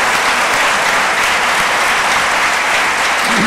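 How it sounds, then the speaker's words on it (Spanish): A Christmas church congregation breaks into loud, sustained applause, a thick uniform roar of many clapping hands with no gaps. "Denle un aplauso fuerte a Cristo"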